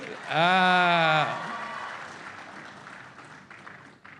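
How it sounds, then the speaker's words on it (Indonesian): A loud, sustained vocal cry opens, then clapping follows from a large crowd at a mass home-mortgage signing event with a government minister, fading gradually into a softer, thinning patter. "Ya tepuk tangan tuh."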